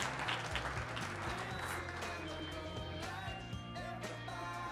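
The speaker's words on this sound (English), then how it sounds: "Round of applause for this brave soul." Audience applause at a startup community event, a dense steady wash of clapping from a crowd, moderately loud and sustained throughout with a low hum and faint voices mixed underneath.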